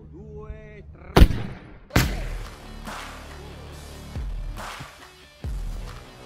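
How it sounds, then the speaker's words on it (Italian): Car airbags are set off one after another, each a loud close boom or thud with a rumbling decay, about five blasts spread over several seconds. "far esplodere questi airbag di automobili"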